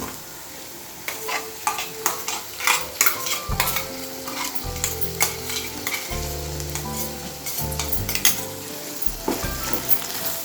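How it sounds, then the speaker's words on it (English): Brinjal curry simmers in a pan while coriander paste is mixed through it. The spoon scrapes and clinks in a steady rhythm over a continuous sizzle, with low thuds from the pan, all close up and with no voices. "Mix the ingredients very well so that brinjal will absorb the coriander paste very well."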